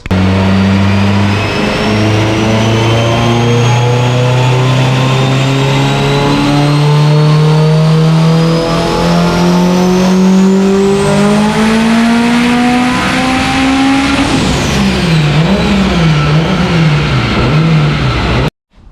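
A stock-block assembled Subaru EJ257 engine revs through a loud dyno pull, pitch climbing steadily for about fourteen seconds before the throttle lifts and the engine drops and burbles, then cuts off.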